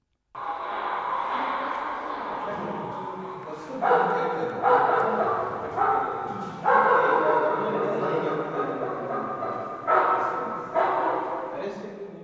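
Electronic dog barking from a solar-powered animal scarer's loudspeaker, used to drive off pigs, in repeated yapping bursts over a steady droning tone, sounding artificial and fairly close.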